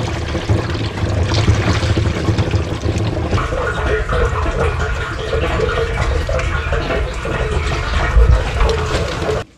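Water runs steadily into an RV's onboard fresh water tank, a loud continuous rushing pour with a gurgling tone that holds for about ten seconds before cutting off abruptly.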